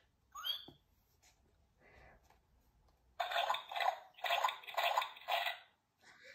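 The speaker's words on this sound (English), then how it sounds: "Everyone is having a wonderful, noisy time jumping and splashing." Cartoon pigs and dogs jumping and splashing in muddy puddles, a burst of several loud wet splashes in quick rhythm after a quieter stretch with a brief squeaky cry near the start.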